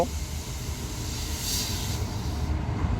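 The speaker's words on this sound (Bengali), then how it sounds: "ফাইনালি বন্ধুগণ আমাদের ট্রেনটা ঢুকে গেছে দেখতে পাচ্ছ" A train pulling into a station rumbles steadily with a low, continuous engine and wheel drone, a brief brighter hiss rising midway, no voices.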